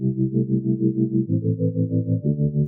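Beat passed through a ShaperBox tremolo effect and EQ, a pulsing low harmonic loop chopping rhythmically in steady even throbs, with a pitch shift around the middle and end, loud and alone.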